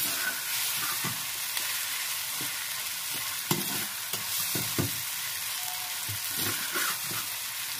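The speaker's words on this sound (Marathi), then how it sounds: "आता हा कांदा आपल्याला खूप परतून घ्यायचा नाही" Onion sautéing in a pan for a spicy onion sabzi, a soft, even sizzle under repeated light stirring taps and scrapes at an irregular pace, close by but fairly quiet, with no speech.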